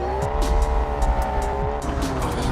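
Car engine and squealing tires in the BeamNG.drive driving game, a revving engine drone with rising and falling pitch under sharp, repeated tire squeals, loud and close with no talking.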